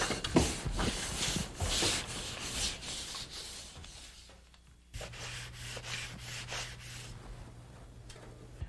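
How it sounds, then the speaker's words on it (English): Hand sanding of dried joint compound on drywall makes a steady series of close, rhythmic scraping strokes with a short pause midway and a constant low hum underneath. "we're probably going to have to do some sanding like we did in the skim coat upstairs"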